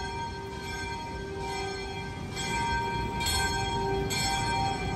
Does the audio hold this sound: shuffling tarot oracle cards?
no